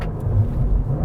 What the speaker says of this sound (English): what if I turn it off and try a heel-toe rev match in a straight line?